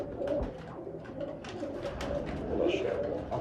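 Bankay pigeons, a cross-bred pair, coo softly and continuously at close range, their low rolling calls overlapping in a steady murmur.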